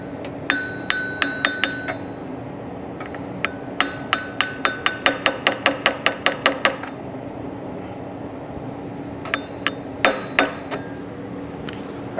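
Sharp metallic taps from a 3/8 drive hammer striking a part on a 1979 fuel-injected VW Super Beetle engine, coming in quick bursts of rapid evenly spaced knocks with pauses between groups, over a steady low hum.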